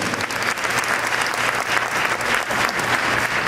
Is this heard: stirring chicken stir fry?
no